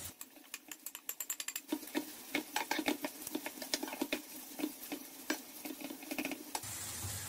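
Onions, a red kapya pepper, small green peppers and garlic sauté in a pan for karnıyarık, with rapid spatula scraping and tapping over a low sizzle that settles into a steady hiss at the end.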